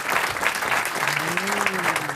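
A studio audience on a French radio quiz show bursts into steady, dense applause, close and loud, while a voice briefly talks over it.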